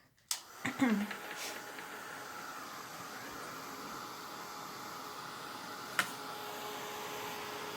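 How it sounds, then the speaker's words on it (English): A handheld heat dryer blows steadily on a chalk-transfer neon-look art sign, a continuous airy hiss that starts with a few clunks and runs close and even, with a brief click partway through. "I'm going to go ahead and hit this with the dryer"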